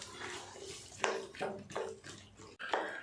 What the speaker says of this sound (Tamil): புளி தண்ணி சேர்த்துட்டு நல்லா கலந்து விட்டுடலாம்.